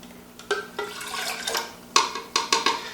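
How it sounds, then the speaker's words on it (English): Room-temperature Brita-filtered water pours into a glass mason jar while making a sourdough starter, a splashing stream broken by several clinks and gurgles. "We'll take the water and put it into our mason jar."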